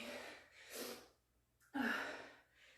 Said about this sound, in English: I'm breathing so heavy.